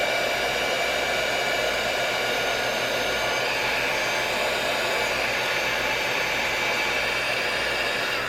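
Heat tool, sounding like a hair dryer, blowing warm air onto the back of a paper brooch, a steady loud whooshing hum that runs unbroken throughout.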